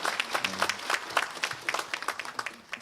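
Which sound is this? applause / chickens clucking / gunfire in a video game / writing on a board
applause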